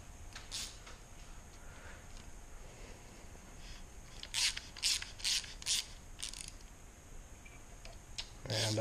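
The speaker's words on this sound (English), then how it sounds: "Thread the bolt in, tighten her down." A ratchet tightens a cylinder head bolt on an engine, giving a run of sharp, clicking strokes close by over a steady background hiss.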